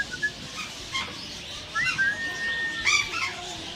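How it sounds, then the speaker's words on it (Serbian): Bird calls ring out at a zoo, short chirps followed by thin, high whistled cries that rise and slide, fairly close, with quiet background murmur between them; a steppe eagle is being watched. "Orao, vidi kako je lep, ljudi. Ko je stepski?"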